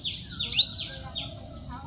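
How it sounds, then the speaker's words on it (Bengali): Shrill, rasping calls from parrots sitting in a tree come in a few quick bursts, fairly close and clear over a soft background murmur. "কিচিরমিচির আওয়াজ, ওগুলো টিয়া পাখির আওয়াজ।"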